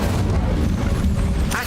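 The Incendio fire spell is cast in Hogwarts Legacy, a loud, steady, low whooshing roar of flame that fills the whole moment and ends with a brief bright flare.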